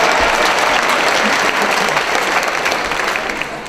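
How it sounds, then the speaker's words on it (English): A large audience at a university town hall applauds loudly, a thick, continuous roar of clapping that fades gradually over a few seconds. "if you want to applaud for the first day of class"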